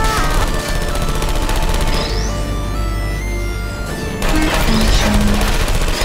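Turrets in the game Portal 2 firing bullets in rapid sustained bursts, loud and close, with electronic whirs and mechanical sweeps between volleys and a short synthetic voice line.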